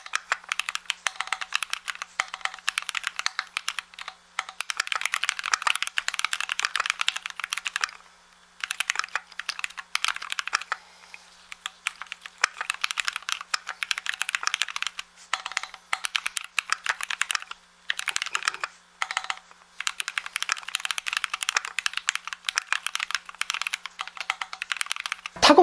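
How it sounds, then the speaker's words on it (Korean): Typing on a Keychron Q4 premium mechanical keyboard, with steady runs of crisp keystrokes broken by short pauses, close and clear, with no talking. "일단 여러분들에게 타건음부터 들려드리도록 하겠습니다"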